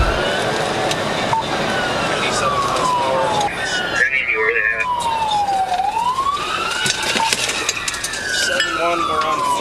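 Police car sirens wail during a high-speed chase, rising and falling loudly over steady road and engine noise, with several siren tones overlapping and a voice briefly audible beneath.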